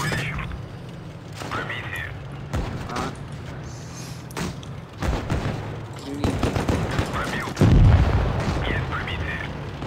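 Gunfire in the Far Cry 3 video game: scattered sharp shots and bursts with a heavier boom near the end, mixed with game ambience while someone talks over it.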